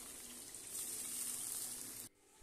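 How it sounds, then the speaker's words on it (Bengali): Chopped onions hit hot mustard oil in a pan, setting off a loud, steady hiss of frying that holds for about two seconds before cutting off abruptly. "এখানে আমার সর্ষের তেল গরম হয়ে গেছে। এরপর আমি পেঁয়াজ কুচিগুলো সব দিয়ে দেব।"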